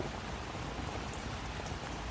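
Heavy rain falls in a Hindi cartoon story, heard as a dense, even patter of drops on surfaces, steady and alone.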